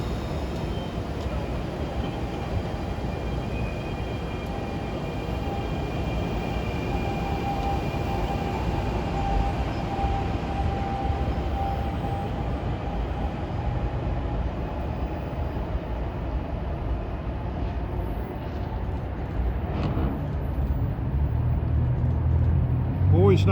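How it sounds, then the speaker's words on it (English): Arrow multiple-unit commuter train cars, over forty years old, running from Trenton to New York in New Jersey, rumble steadily past at close range, a continuous loud rolling roar with a faint tonal whine throughout. "Monster train of Arrow MUs from Trenton to New York at 5:08."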